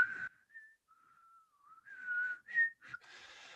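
Someone whistles a short, wavering tune nearby, the notes sliding and breaking between brief breathy pauses, quiet and alone with no talking.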